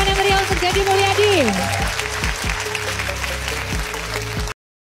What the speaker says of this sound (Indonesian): Kita beri tepuk tangan yang meriah untuk Deddy Mulyadi.